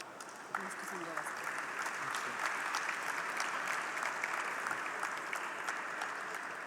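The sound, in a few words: audience applause at a sugar convention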